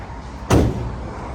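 A sliding side door on a 2017 Ford Transit van rolls open in one quick, loud rumbling thud about a third of the way in, then settles into steady background noise.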